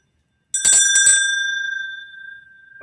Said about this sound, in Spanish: donde pasa el carrito de paletas con su campana tintineando